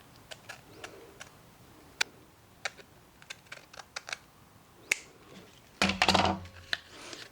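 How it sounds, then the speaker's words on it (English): Extra ribbon being trimmed off a paper craft, heard as sparse, crisp snipping clicks spaced apart, then a brief louder rustling burst near the end. "let me go ahead and trim this extra ribbon off here"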